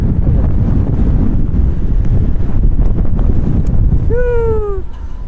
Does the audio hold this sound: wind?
yes